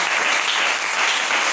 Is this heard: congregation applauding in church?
yes